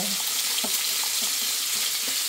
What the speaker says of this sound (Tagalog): Lagyan na natin ng 300 ml na tubig para matunaw.